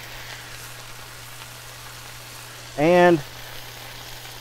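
Bologna slices fry on a Blackstone griddle with a steady, hissing, rain-like sizzle throughout, while a voice briefly speaks partway through.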